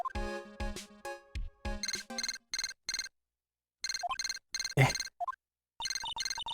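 A transceiver rings in Ace Attorney: Justice For All, a loud electronic ringtone of repeated chirping bursts separated by short gaps, with no one talking.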